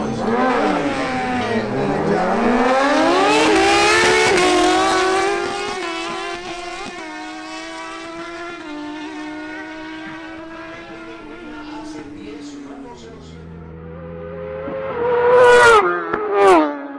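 Kawasaki Ninja ZX-10R sport motorcycle accelerating hard down a drag strip against a Suzuki GSX-R1000, a loud rising engine whine climbing through the gears, then receding, with a second burst of revving near the end.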